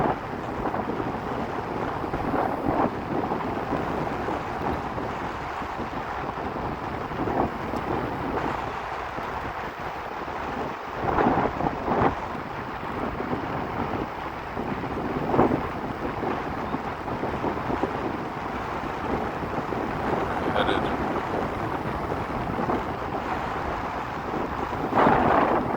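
Wind rushes steadily past a rider on a Segway GT2 electric scooter at about 25 miles per hour on Philadelphia streets, a loud continuous buffeting roar with gusty swells and no talking.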